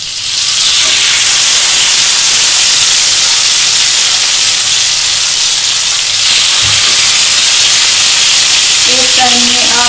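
Pieces of chicken tikka fry in hot oil with a loud, continuous close-up sizzle and hiss that barely changes for the whole stretch, ending with a brief faint voice.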